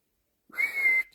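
A person whistles one clear, sustained note of about half a second in a room at the Golden Fleece inn in York, heard alone against silence.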